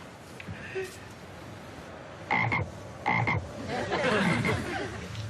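Frogs croaking in repeated raspy pulses over a steady outdoor hum, with a couple of louder croaks followed by a longer chorus.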